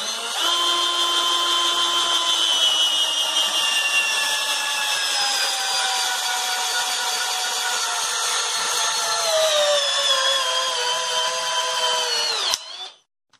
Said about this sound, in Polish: Wiercę z tej strony, żeby tam nam się nie zderzył z pozostałością tamtego.